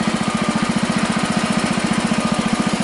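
A lawn mower engine idles in neutral with a steady, fast, even chugging pulse, close and alone with no voices.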